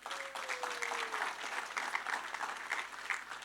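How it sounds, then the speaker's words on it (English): An audience at a live talk show event in Hawke's Bay claps in a sustained, fairly even round of applause, heard at a moderate distance with a brief tonal whistle near the start. "Now, one more round of applause for our Real Talk whānau here."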